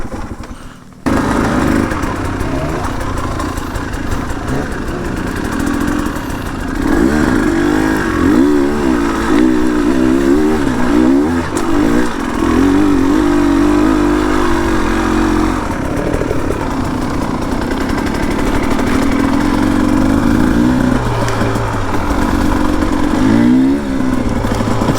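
A Chinese two-stroke HengJian Z300 S7 motorcycle rides continuously, its buzzy engine loud and close with wavering revs and throttle changes through the whole stretch.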